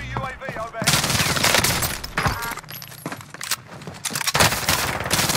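Gunfire in Call of Duty: Warzone, dense bursts of automatic rounds and cracking shots coming close and loud in rapid flurries, with a voice briefly talking over them.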